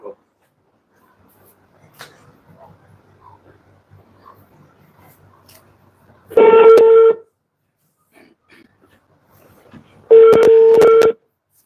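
Telephone call with two loud ringback tones, each about a second long and spaced several seconds apart, following a few faint dialing clicks and low background noise.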